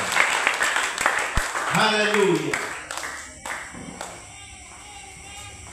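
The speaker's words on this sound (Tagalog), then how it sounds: "Palakpak ka sa Diyos." A church congregation clapping their hands in worship, a burst of dense applause at the start that fades as a voice sings out over the room.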